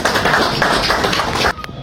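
Loud, dense clapping from a crowd gathered in Ngandajika, a steady wash of hands that cuts off abruptly near the end, leaving quieter room sound.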